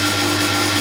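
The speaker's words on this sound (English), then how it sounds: "Press drill comes into its own again to cut a hole to take the outlet." Steady, dense whirring drone with a low hum of a drill press cutting an outlet hole in orange 6-inch plastic drain pipe, close and loud, without pause.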